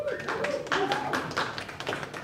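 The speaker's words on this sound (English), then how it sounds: "That's the amount of claps I usually get" Sparse audience clapping at a comedy show, a handful of scattered claps in an irregular rhythm, fairly quiet, with a voice talking over them.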